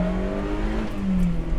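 Fiat X1/9 small mid-engine sports car, its little engine revving eagerly with a steady, buzzing note under load, close and fairly loud throughout.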